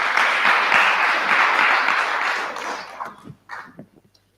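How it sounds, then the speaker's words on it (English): An audience at a student innovation pitch competition claps for a presenter, a full burst of applause that thins out after a few seconds into scattered last claps. "Let's clap for Abel as"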